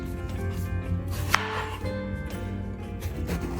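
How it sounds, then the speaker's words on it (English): A knife cuts through peeled pumpkin (kaddu) for a Goan vegetable dish, with a soft crunching slice and a sharp tap on the board, close over a low steady hum. "So I've peeled the kaddu, and I'm going to cut the back and the front"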